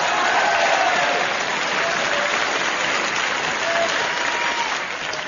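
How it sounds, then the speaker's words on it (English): Applause played from a gramophone record in a radio comedy: a dense, continuous wash of crowd clapping, steady and fairly loud throughout, with a muffled, band-limited recorded quality. "Signals applause on gramophone record."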